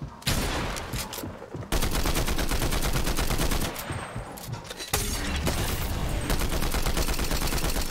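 The Combat Assault Rifle in a video game fires loud, rapid automatic bursts that run almost without a break, with only short pauses between long strings of shots.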